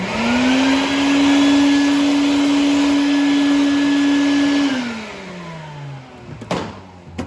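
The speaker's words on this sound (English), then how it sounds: "got a little shop vac here" A small shop vacuum whines steadily at a high pitch, then powers down with a falling tone, followed by a few clunks.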